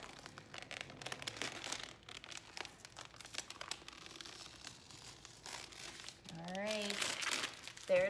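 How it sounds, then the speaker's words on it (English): Transfer tape is peeled off a painted Pikachu painting in close, crinkling, tearing rustles that run through most of the clip, with a voice speaking near the end. "all we have to do now is peel off our transfer tape"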